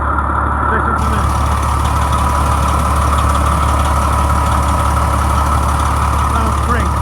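A 1998 Pierce Quantum fire truck idles nearby with a steady, heavy low rumble that holds constant throughout, with speech-like sounds faintly present beneath it.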